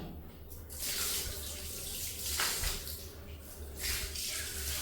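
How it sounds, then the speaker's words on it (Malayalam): Tap water runs steadily for a foot wash, splashing and gushing with several surges. "ഇനി നമുക്ക് കഴുകാം കേട്ടോ കാല് കഴുകാം"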